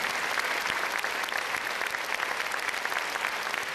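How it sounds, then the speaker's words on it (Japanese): Audience at a welcome concert for Nelson Mandela in Japan applauds in a broad, sustained wash of clapping, somewhat distant and even, with occasional sharper claps poking through. "皆様もう一度大きな拍手をお願いいたします。"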